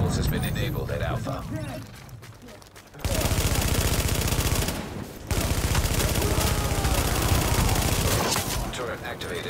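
Automated turret at the Alpha point in a shooter game firing sustained, dense machine-gun streams in two long stretches with a brief break between, loud and continuous, while a voice speaks over the combat.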